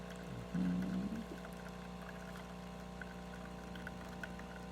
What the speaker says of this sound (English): that's the pre-infusion. So water coming out of the spouts, really good